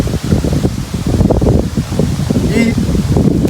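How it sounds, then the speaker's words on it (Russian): Strong wind buffeting the microphone outdoors on a ride to a lake, a loud, gusty roar with people talking close by. "Ветер сильный."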